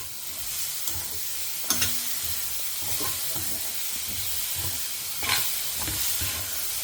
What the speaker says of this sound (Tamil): இதில் உள்ள ஈரத்துக்கு இது இன்னும் கொஞ்சம் நல்லா வதங்கிடும். கொஞ்சம் மூடி போட்டு வதக்குவோம்.